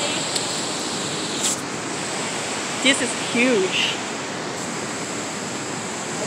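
Constant broad wash of river water flowing along a downtown riverwalk, steady and fairly loud, with brief bits of a person talking and a couple of small chirpy sounds over it.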